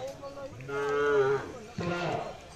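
A large bull, a young breeding animal, lets out two close, loud moos: a long deep drawn-out call, a short pause, then a second rougher moo.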